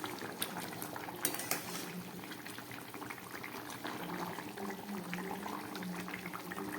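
Fish curry with potatoes, cooked in the style of a hilsa-flavoured jhol, simmers gently over low heat in a pot, giving a steady soft bubbling and burbling that stays even and fairly quiet throughout, with no talking.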